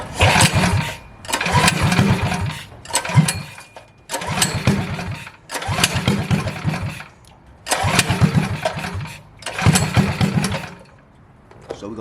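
A mini bike's small engine, running poorly, catches and revs in a series of loud bursts of about a second each, cutting out briefly between them.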